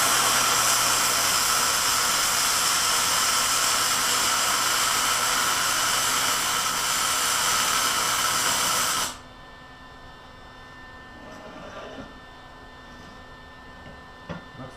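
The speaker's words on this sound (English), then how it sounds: "I'm gonna weld one side, then go do the other, and then fill in the gaps." A loud, continuous crackling hiss from welding a bead onto a stump grinder cutter head, running steadily for about nine seconds before cutting off to a quiet shop with faint clicks.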